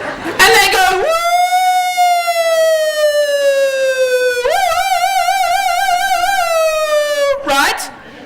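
A voice imitates an ambulance siren with a long rising and falling wail, wavering in the middle, loud and close, with brief vocal sounds before and after.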